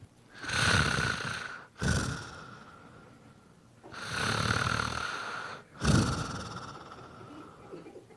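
A comedian on stage vocally imitates his wife's loud snoring, giving four rasping snores in an uneven rhythm, each a harsh inhale with breathy pauses between, close and prominent with no other talk.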